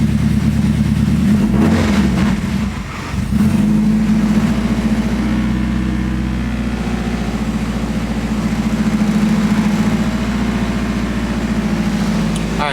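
An AWD GS-R car engine is revved and held at steady throttle during tuning, a loud, close, sustained drone with a brief dip near the start and no talking.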